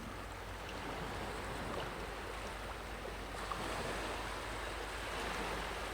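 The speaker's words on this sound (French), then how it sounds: "sur le son de chacune des vagues" Steady wash of ocean surf, a continuous broadband roar of waves rolling onto the shore, distant and even, with no voices.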